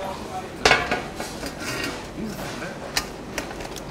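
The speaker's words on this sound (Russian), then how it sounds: "Так, хвост я сразу отрежу." A knife cuts the tail off a large bream in a kitchen, giving a sharp clack against the board, followed by scraping, small knocks and dish clatter, close and moderately loud.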